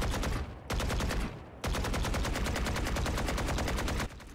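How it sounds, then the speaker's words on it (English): A Vandal rifle with the RGX 11Z Pro skin in Valorant fires in rapid full-auto bursts, three sustained strings of crisp, evenly spaced shots separated by short pauses, loud and close. "Like, do you guys hear how it sounds?"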